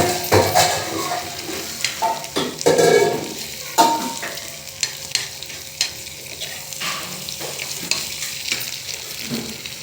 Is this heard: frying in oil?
yes